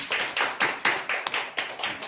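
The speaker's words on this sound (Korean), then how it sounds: "박수를 다시" Church congregation clapping during a Wednesday worship service, a series of sharp broadband bursts at a steady rhythm, fairly close and moderately loud, with no talking over it.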